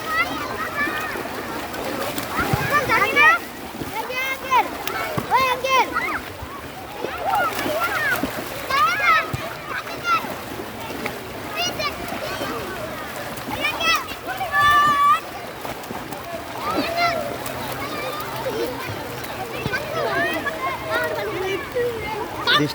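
Children splash and play in rainwater pooled on an Eidgah field, with repeated watery splashes under lively, overlapping children's shouts and chatter throughout.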